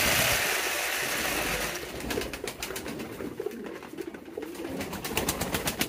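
Pigeons at a pigeon farm, soft cooing and fluttery bird calls close by over a steady hum, with a low rumble at the start.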